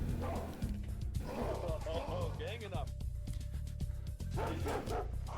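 A dog barking in a video game, with repeated yips and barks in short bursts under steady talking, alongside other animal noises in the background.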